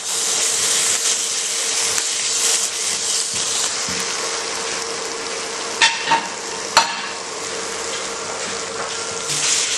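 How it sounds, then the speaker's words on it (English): Mutton curry (karepak) stirred in a pan over steady frying sizzle, with a continuous hiss, a few sharp scraping clicks partway through, and no talking. "Mix everything together."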